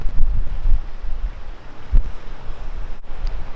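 Strong wind buffets the microphone on the northeast coast of Tasmania, a loud, continuous low rumble with gusty surges and no talking.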